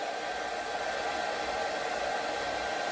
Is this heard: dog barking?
no